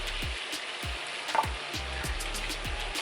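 Spicy seafood-boil seasoning with extra pepper and lemon juice is stirred together, giving a steady, fairly loud wet sizzling texture with a run of soft rhythmic thumps from the mixing. No voices.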